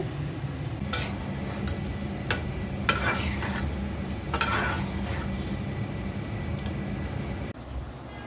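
Cooked beef curry is reheated and stirred in a pan, a steady low sizzle running throughout with several sharp scrapes and clinks of the spoon against the metal, close and moderately loud, with no talking.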